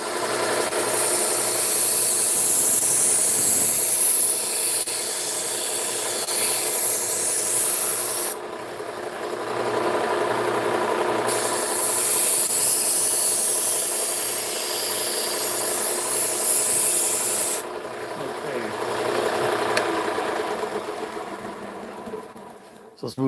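Knife edge being sharpened on a belt grinder, several passes of loud abrasive rasping and whirring, each lasting several seconds, separated by brief lifts of the blade, close with a motor hum underneath.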